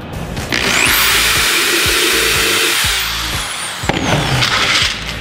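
A power drill running at full speed, boring a pilot hole into wood for a birdhouse build: a loud, steady high-pitched whine that holds for several seconds, with the pitch dipping briefly near the end and no talk over it.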